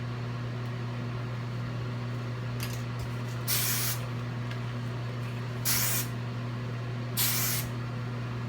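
Hairspray is sprayed onto hair during a curly updo in three short, close hissing bursts over a steady low hum, with no voices.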